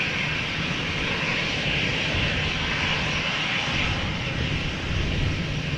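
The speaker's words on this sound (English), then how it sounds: "A320 outbound to Milan, 6 years old, first flight July 2016." An Airbus A320 jet, six years old, outbound to Milan at Amsterdam Schiphol, its engines giving a steady, fairly loud roar and hiss that holds even across the whole stretch.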